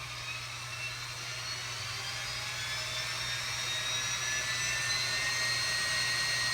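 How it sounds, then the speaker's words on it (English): A Persistence of Vision machine spinning up under a dial-controlled motor gives a steady whirring hum whose whine slowly climbs in pitch and grows slightly louder, heard close and alone. "it will start spinning quicker and quicker as I turn the dial"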